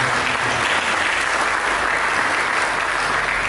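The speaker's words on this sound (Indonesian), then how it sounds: "Mari kita berikan tepuk tangan." A church congregation breaks into loud, close applause, a dense and even clatter of many hands clapping for a few seconds with no speech over it.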